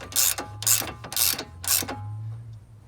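A socket wrench ratchets a bolt loose on a Dodge Caravan sway bar link, four close, loud bursts of rapid clicking in an even rhythm over a low steady hum, with no talking.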